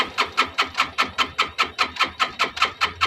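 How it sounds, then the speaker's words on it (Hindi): A Yamaha motorcycle with a no-spark current fault is self-start cranked without firing, giving a loud, close, rapid rhythmic chugging of about five strokes per second that never catches. "चलिए हम सेल्फ से भी हम कोशिश करते हैं।"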